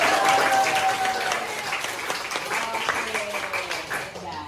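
A classroom of students breaks into applause during a biology lesson, a dense burst of many hands clapping that starts loud and gradually thins, with voices and some whooping mixed in.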